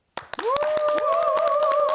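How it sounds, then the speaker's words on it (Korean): A studio audience claps to welcome three young restaurant entrepreneurs onto a KBS New Year variety show, sharp claps starting together and rolling on steadily, while a sustained voice-like tone runs over them. "여러분 박수로 맞아주십시오."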